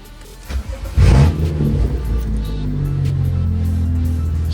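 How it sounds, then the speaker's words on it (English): A BMW car engine cranks and catches with a loud burst, then settles into a steady, close idle rumble that carries on to the end, running with its low-pressure fuel pump harness disconnected. "I'm going to try to go ahead and start my car."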